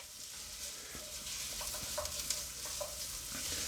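Diced ingredients, coated in roasting juices, caramelise in a pan with a quiet, steady sizzle, while scraping stirs and soft clicks sound close by throughout.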